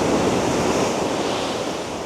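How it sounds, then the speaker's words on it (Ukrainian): Strong, high ocean waves breaking on the Bali coast, a loud continuous roaring wash of surf with wind, no voices. "там де хвилі б'ються прям ох як дуже"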